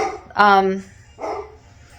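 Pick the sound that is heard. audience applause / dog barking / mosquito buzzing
dog barking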